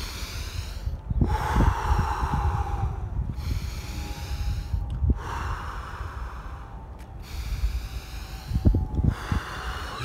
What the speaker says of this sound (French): prendre 3 grandes respirations